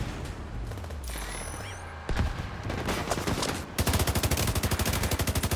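Rapid gunfire from a shotgun during a Division 2 control point fight, with scattered shots at first, then a dense, rhythmic stream of loud blasts near the end.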